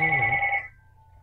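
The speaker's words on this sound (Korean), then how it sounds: "전화가 오네요." A telephone ringtone signals an incoming call: one loud electronic ring burst that cuts off abruptly after about half a second, leaving a faint low hum.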